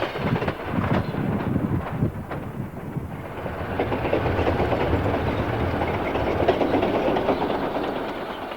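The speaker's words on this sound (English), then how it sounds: "This dual SDP-45 powered train is near Seacliff, California, milepost 388." Two Southern Pacific SDP-45 diesel locomotives rumble steadily past near Seacliff, California, with a heavy engine drone and rhythmic wheel clatter on the rails, loud and close, with no voices.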